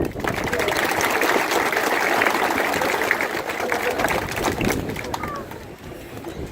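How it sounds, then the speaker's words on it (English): Audience applause for Minister Michael Ring at a community and rural development event: dense, sustained clapping from a large crowd, continuous and even, tapering slightly near the end. "please give a big round of applause for Minister Michael Ring"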